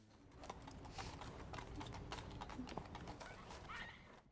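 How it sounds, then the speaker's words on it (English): Steady horse hooves clip-clop throughout, a continuous trotting rhythm at moderate loudness with a faint voice in the background. "A horse is a very loud way to move."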